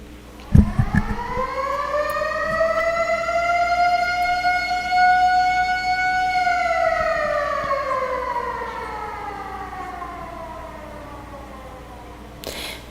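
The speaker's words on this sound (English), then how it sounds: "a siren sound for that. I'm not sure if you guys hear it." A wailing siren rises and falls in long sweeping tones, loud and steady for several seconds before slowly winding down and fading, with a brief thump at the start.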